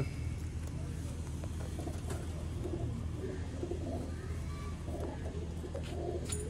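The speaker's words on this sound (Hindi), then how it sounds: "शौक करो सियालकोटी दोस्तों नायाब शेखां वाले कबूतर" Sialkoti Sheikhan pigeons coo softly in a loft, low repeated murmurs set against steady background noise and a distant car.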